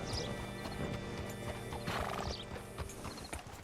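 Steady clip-clop of hooves with a horse whinnying midway, mixed with light mechanical rattling, all close and continuous, in the video game Red Dead Redemption 2.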